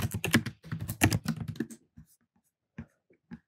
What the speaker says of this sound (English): type Flutter install